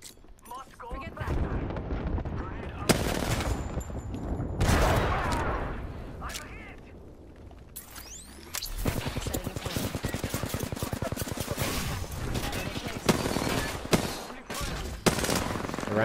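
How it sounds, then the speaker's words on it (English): Airstrike explosions in the battle royale game Apex Legends rumble and crack in a heavy barrage, followed by sustained rattling blasts and impacts, with players talking excitedly over the chaos. "Airstrike. Airstrikes."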